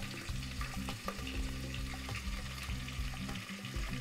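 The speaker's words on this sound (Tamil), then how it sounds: "சீரகத்தை 2 கரண்டி போட்டு நல்லா வதக்கிக்குவோம்" Cumin seeds and chopped onion sauté in ghee in a pan, giving a steady close sizzle and crackle with a few stirring clicks, over a low hum throughout.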